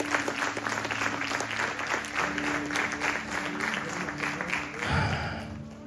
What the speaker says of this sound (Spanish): Denle un aplauso al Señor, vamos.